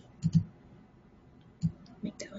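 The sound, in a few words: computer keyboard shortcut key presses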